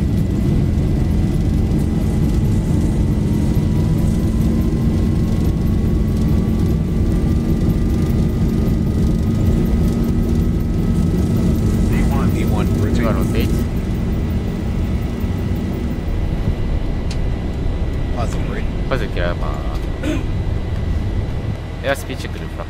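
An airliner in the X-Plane 11 flight simulator takes off on a flight out of Kagoshima Airport, a loud steady engine roar with a rising whine, then rumble and scattered bursts as it lifts off, with chatter over it.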